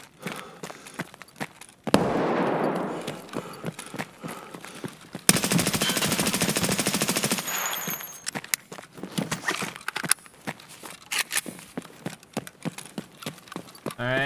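Bursts of automatic gunfire from the video game Escape From Tarkov crackle in rapid strings. The dense volleys alternate with scattered single shots and quieter gaps.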